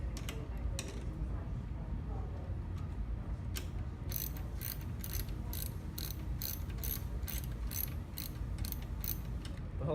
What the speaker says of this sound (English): And then you start ratcheting it down